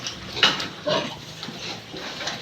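Farm pigs, including large weaning-age piglets, grunt and snuffle at close range in a few short, rough bursts over a low background hum.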